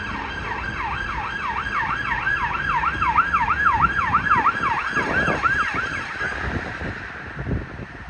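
A police car siren wails in a fast repeating up-and-down pattern over a road in London, fairly close and loud, then cuts off, leaving the rumble of traffic and a vehicle passing.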